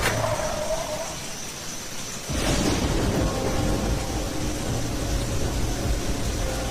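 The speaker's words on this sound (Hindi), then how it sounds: "तभी आसमान फटा और इतनी तेज बारिश हुई कि विंडशील्ड वाइपर बेअसर हो गए" A sudden loud thunderclap in a cartoon breaks into heavy, steady rain that roars on with no pause, dense and close.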